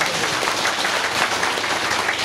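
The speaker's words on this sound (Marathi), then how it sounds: "टाळ्या वाजवा जोरदार" Audience clapping at a Mahashivratri and Gopalakala gathering in Dhasgad as a guest is called up to speak, a dense, steady patter of many hands filling the short stretch without letup.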